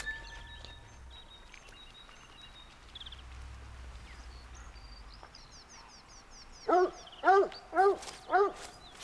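Hunting dog in a deer-hunting video game gives four loud, evenly spaced barks near the end, after a long stretch of quiet ambient game sound with faint bird calls.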